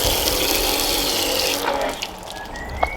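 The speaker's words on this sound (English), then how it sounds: "I could quite happily stand here for most of the day just squirting water on this window" Water squirted onto a sealant-treated car window, a broad steady spray hiss for over a second that cuts off, leaving a quieter trickle and a few faint drips.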